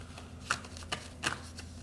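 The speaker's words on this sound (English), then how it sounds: "Shuffle one more time," Tarot cards being shuffled by hand, with a few quick riffling bursts and soft card slaps spaced across a quiet room, close and fairly faint.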